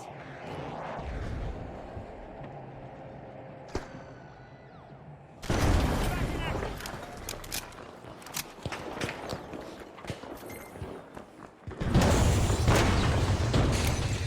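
Frag grenade blasts and gunfire in the game THE FINALS: a quiet stretch with scattered footsteps, then a sudden loud burst of explosive noise and crackling shots, dropping briefly before another heavy blast erupts near the end.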